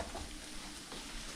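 Eggs frying in a pan for curry-style potato eggs, a short steady sizzle with soft stirring scrapes, close and moderately quiet, no voices.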